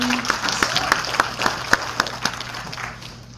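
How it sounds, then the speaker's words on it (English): Audience applause at a teacher award ceremony, moderately loud and steady, with individual claps standing out as it slowly tapers off. "Ladies and gentlemen, a warm applause for Miss Concepcion."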